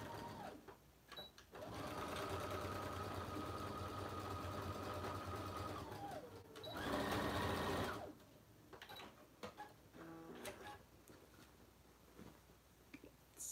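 A sewing machine stitching fabric whirs steadily in a long continuous run, with a brief higher-speed burst near the end before stopping; quiet handling noises follow.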